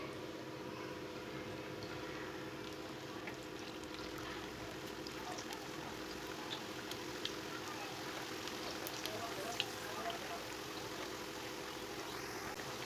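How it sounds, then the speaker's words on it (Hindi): Kebabs fry in hot oil with a close, steady sizzle broken by scattered small pops and crackles, and no talk over it. "ऑयल हमारा गर्म हो चुका है। अब कबाबों को डाल लेंगे।"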